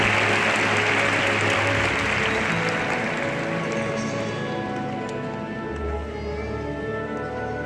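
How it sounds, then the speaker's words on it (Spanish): Applause from a concert audience at a Harry Potter in-concert film screening in Barcelona, a loud, dense wash of clapping that fades gradually over several seconds with low crowd murmur underneath. "Ahora volverán a aplaudir"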